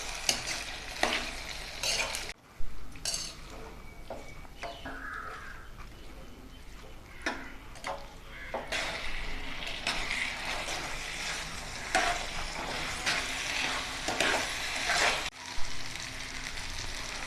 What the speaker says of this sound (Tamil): நல்லா நம்ம எண்ணெயில் நல்லா மாங்காய் மிக்ஸ் ஆகணுங்க